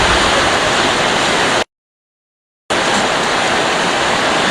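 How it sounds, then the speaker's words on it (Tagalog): Dense, steady roar of heavy rain, broken by about a second of total silence before the downpour resumes just as loud. "Ayun na, malakas kaya ulan natin ngayon."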